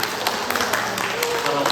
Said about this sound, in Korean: 우리 원준이 위해서도 격려의 박수 한번.